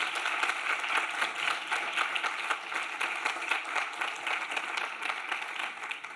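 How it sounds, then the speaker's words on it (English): Audience applause for an event team at a pediatric innovation day in Barcelona, a steady, moderately quiet wash of many hands clapping that holds evenly across the whole stretch with no voices standing out. "So I would like to give a big applause to Patricia and all the team."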